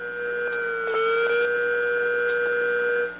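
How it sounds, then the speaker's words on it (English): A failing hard drive's platter motor heard through an electronics stethoscope: steady electronic whine tones with a brief dip and glide as the motor falters and restarts, plus faint clicks, close and fairly loud. "That was the sound of the actual platter motor failing and then restarting."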